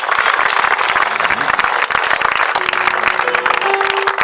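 Church congregation applauding during a lively service, steady dense clapping throughout with a sustained organ-like tone and some voices mixed in.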